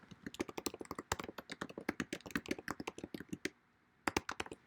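Rapid, irregular keystrokes on a computer keyboard, close and crisp, running in quick bursts with a brief pause before a final flurry of taps.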